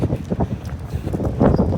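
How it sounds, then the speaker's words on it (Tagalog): Gusty wind before a typhoon rushes and thumps against the microphone in uneven bursts during an outdoor run, swelling louder near the end. "Malakas yung hangin."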